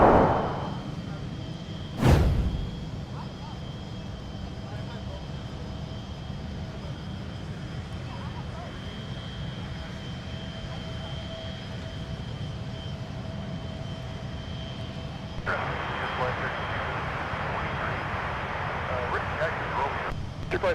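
A FlexJet Embraer Praetor 500 business jet lands at MSP airport, its engine roar a steady distant rumble beneath air-traffic radio talk, with a brief whoosh early and a louder rush near the end.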